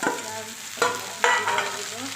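Vegetables sizzle in a pan with very little oil, a steady crackling fry broken by a few sharp scraping stirs.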